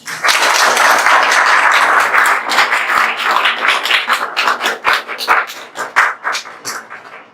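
An audience applauds for Kapil, newly selected as a PNB SO credit officer: a loud, dense burst of clapping that thins after a few seconds into scattered, sharper individual claps.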